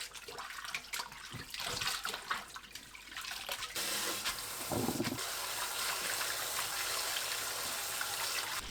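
Boiled gondre greens are rinsed in cold water. Splashing and handling noises are followed by a steady gush of running water that continues at a moderate level.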